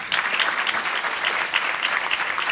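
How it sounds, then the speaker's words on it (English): An audience at a sports media panel event bursts into applause, a loud, dense clapping from many people in a hall that stays steady for a couple of seconds. "I didn't say you had to applaud him."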